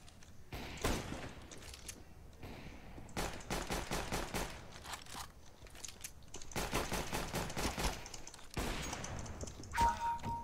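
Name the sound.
gunfire in the video game Counter Strike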